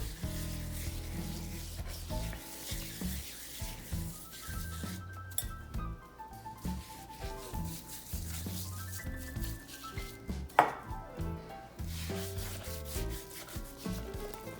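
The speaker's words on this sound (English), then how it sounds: "just gonna take our paste and start applying it all over. Just rub it on in there." Hands rub spice paste all over a prime rib, making soft, repeated wet rubbing and smearing sounds up close. Background music plays underneath, and there is a single sharp clink partway through.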